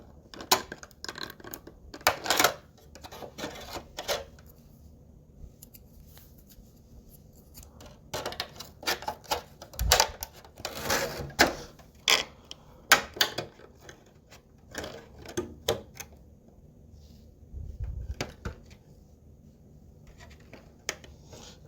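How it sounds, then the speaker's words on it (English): A hobby blade scores and cuts a clear RC drift car body shell, giving close, sharp irregular scraping and snipping strokes in bursts separated by brief quiet gaps. "Trying to cut this one to go right into that little arch right there."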